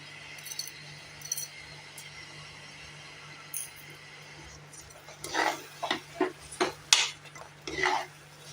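A spoon stirs moong dal and rock salt inside a pressure cooker. After a quiet stretch, a quick series of sharp metallic clinks and scrapes follows near the end.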